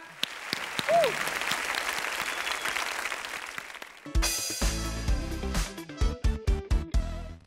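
Audience applause on a Vietnamese music game show, starting as a steady wash of clapping under a host's voice, then giving way to loud, punchy music with rhythmic hits.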